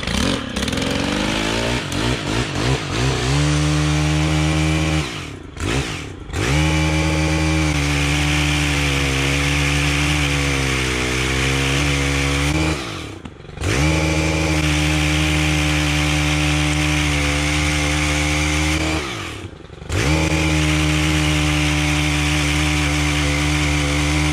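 Cordless Milwaukee pole saw running at full throttle outdoors on a chilly day, a loud steady motor whine with a buzzing chain, broken by a few short drops where the trigger is released before it revs back up.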